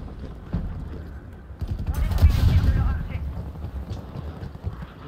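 Bursts of gunfire in the video game Call of Duty Cold War, heard as rapid clattering volleys with the loudest run in the middle, under a player's voice.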